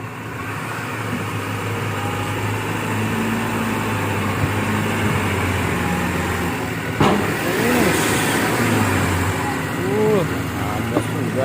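A truck engine strains and revs as it pulls along a collapsed, sunken road, a steady loud drone with rising and falling pitch, while voices talk over it.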